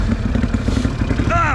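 A four-wheeler ATV engine drones low and steady as it heads down a steep muddy hill, with a voice cutting in briefly at the end.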